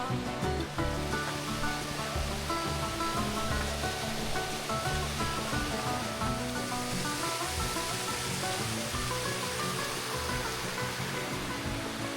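A steady, full roar of Spoonaker Falls on the Chattooga River Trail fills the whole stretch, constant and fairly close, with no voices over it.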